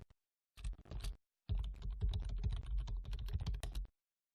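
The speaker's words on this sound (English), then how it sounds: "go ahead and type in your username that I've given you as well as your password" Fingers type a username and password on a computer keyboard in bursts of quick clicking keystrokes: a short flurry, a pause, then a longer steady run, close and clear with no talk.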